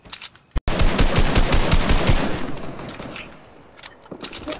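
Submachine gun fire in a video game: a brief shot, a short gap, then a dense, loud stream of rapid automatic rounds lasting a few seconds before tapering into scattered fainter shots.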